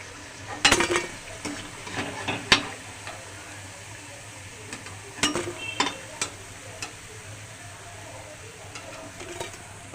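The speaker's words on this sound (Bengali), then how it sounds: "আমি ঠিক এরম করেই পুরো পকোড়াটা ভেজে নেব আলু পেঁয়াজের" Potato and onion pakoras frying in oil: a soft, continuous sizzle broken by scattered close clinks and scrapes of a utensil against the pan, with no one speaking.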